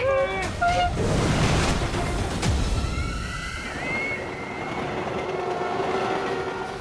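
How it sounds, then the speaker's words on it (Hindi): Two trains run on the same track in a TV drama scene, making a loud rumbling rail roar and clatter with horn-like tones, mixed with dramatic music and effects. "दोनों ट्रेन एक ही ट्रैक पे चल रही है"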